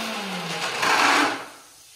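Kitchen mixer grinder with a newly fitted jar running but not crushing its contents properly, a steady whirring motor hum with a rising rough grind for about two seconds before winding down.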